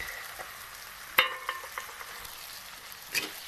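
Crushed peanuts with tomato, turmeric, red chili powder and salt sautéing in hot oil, a soft steady sizzle punctuated by a few sharp stirring scrapes and clinks, no voices.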